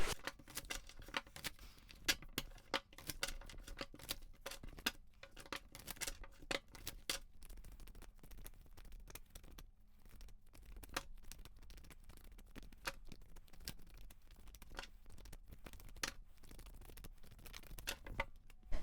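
Tarot cards are shuffled by hand, a long run of dense, irregular riffling snaps and soft ticks close to the mic, faint and without talking.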